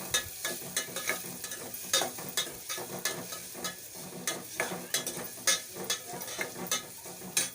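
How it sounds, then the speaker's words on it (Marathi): Chili and onion sautéing in a pan, a soft crackling sizzle broken by frequent rhythmic scraping stirs of a spoon against the pan. "मिरची आणि कांदा टाकून आपण मिक्स करून घेऊया. परतून घेऊया."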